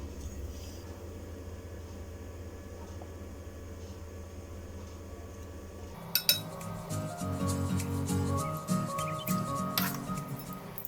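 A spoon stirs sugar and vanilla extract together in a bowl, quick clinking and scraping beginning after a quiet stretch and continuing steadily at close range.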